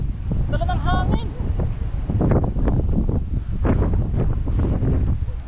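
Gusty wind buffets the microphone on a fishing outing, rumbling in uneven bursts, with people talking over it and a brief whistle-like tone early on.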